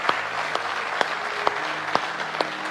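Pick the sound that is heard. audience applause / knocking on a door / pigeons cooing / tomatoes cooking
audience applause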